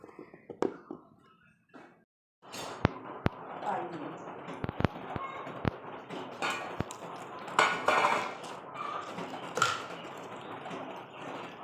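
A metal lid set onto a pot of pani tenga, a fermented Assamese sour drink left to steep for four days, giving a few sharp clanks and clatters amid kitchen handling noise, with talk over it.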